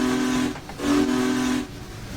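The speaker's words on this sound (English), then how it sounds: "Love the whistle on this thing." Steam locomotive whistle from a Union Pacific Challenger in the Train Simulator Classic game: a loud, sustained steam whistle with a hissing edge, sounding two long blasts separated by a short break, with no voices.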